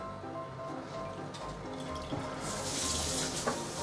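Water pours from a container into a pot during chicken mushroom stew cooking, making a steady trickling, splashing flow that grows fuller and louder toward the end.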